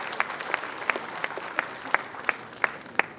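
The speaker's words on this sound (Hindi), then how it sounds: "हम सब जोरदार तहे दिल से तालियां बजा के स्वागत और अभिनंदन" An audience claps for the chief minister at a public event in Rajasthan. A soft, steady wash of applause is broken by distinct, fairly regular louder claps that stand out about every third of a second.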